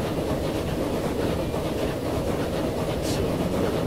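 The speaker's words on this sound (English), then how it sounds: "Follow the train for a bit." A train rolls steadily along the track in the video game Transport Fever 2, a loud continuous rumble with faint rhythmic clatter and no pauses, alone without talk.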